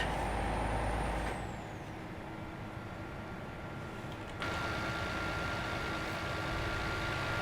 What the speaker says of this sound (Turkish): Retarder sesi de süper aracın.